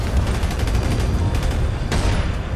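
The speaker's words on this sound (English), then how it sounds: "Explosions." Rapid gunfire and explosions in a GTA 5 roleplay shootout: loud, continuous bursts of shots with a sharp blast near the end, no talk over it.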